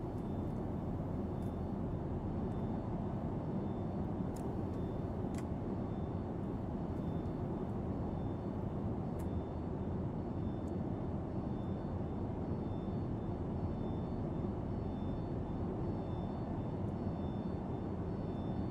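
A PMDG 737-8 airliner cabin in Microsoft Flight Simulator 2024 hums with a steady broadband roar, faint hydraulic pump whine running continuously underneath and a few soft clicks, no one talking.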